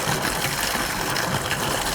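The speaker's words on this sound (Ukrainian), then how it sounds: "Гарно тут такий гідромасаж" Hydromassage water jets churn steadily in an outdoor thermal pool at a Zakarpattia spa, a loud continuous rushing and bubbling wash with no pauses.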